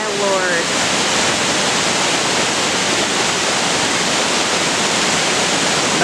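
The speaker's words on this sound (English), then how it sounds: "I've never seen a waterfall this big in person before." Mingo Falls, a 120-foot waterfall, roars in a steady, loud, broadband rush that stays constant throughout, with a faint voice rising briefly at the very start.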